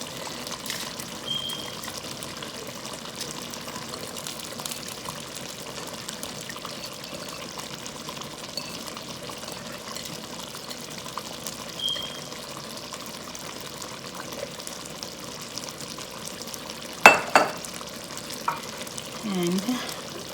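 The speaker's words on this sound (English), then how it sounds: "At this point we will add our 3 cup rice, which I have basmati rice, and I have soaked for 20 minutes." Soaked basmati rice goes into a pot of boiling water for Mughlai chicken biryani: a steady bubbling hiss runs throughout, broken by a brief splash and clatter near the end, close and moderately quiet.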